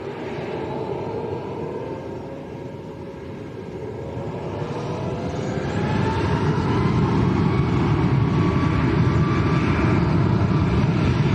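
A Ryanair passenger jet departing Lanzarote Arrecife Airport for Marseille, a broad roaring engine rumble that swells steadily louder as it powers up for takeoff, heard from a distance outdoors with no talk.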